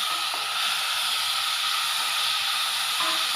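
Onions and tomatoes sauté in a pan for a garlic gravy, giving off a steady, even sizzle and hiss that runs the whole time with no voices.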